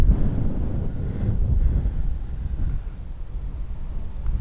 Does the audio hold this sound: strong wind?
yes